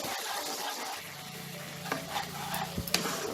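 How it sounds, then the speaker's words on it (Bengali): Ground spice paste is stirred in hot oil, giving a soft, low sizzle broken by a few sharp scraping and tapping strokes near the end. "মশলাটা আমি 2-3 মিনিট খুব ভালো করে তেলে নাড়াচাড়া করে নিয়েছি।"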